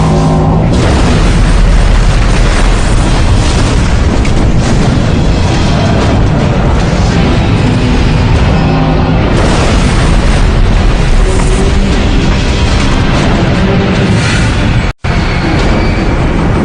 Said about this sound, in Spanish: Una explosión en el casco hace que el poderoso barco se doble y estalle.